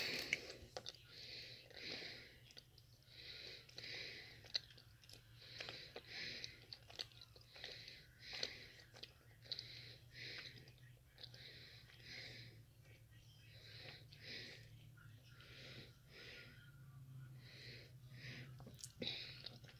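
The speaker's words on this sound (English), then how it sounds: "that took me a little bit to chew it" Food is chewed close to the mic in a quiet room, soft repeated crunching and mouth sounds in a steady rhythm, with faint breaths between bites.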